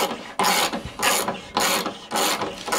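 A ratchet wrench undoes a bolt on a Honda Pro Kaaz lawnmower gearbox, giving four loud, even bursts of rapid clicking with short pauses between strokes, close up and without talk.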